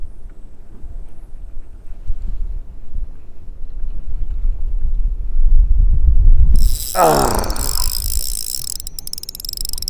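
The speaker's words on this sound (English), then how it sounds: "And the wind is just too much right now." Strong wind buffets an outdoor ice fishing spot on a winter day, a loud, steady low roar throughout, with a sharp, high mechanical whir cutting in near the end.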